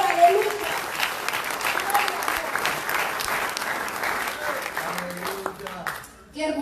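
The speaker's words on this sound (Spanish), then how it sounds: "Denle un aplauso al Señor" Congregational applause fills a church service, a dense steady wash of many hands clapping at moderate loudness that thins briefly near the end before resuming.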